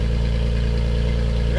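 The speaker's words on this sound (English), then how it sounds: "go ahead and fire it up, Austin" A third-generation Toyota Tacoma engine runs at a steady, loud idle, with a low continuous rumble close by and no speech.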